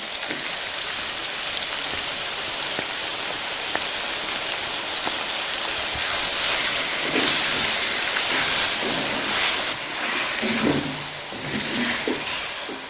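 Tomatoes hitting chicken karahi in a hot pan, producing a loud, continuous hissing sizzle that swells slightly partway through, with faint stirring clinks and no voices.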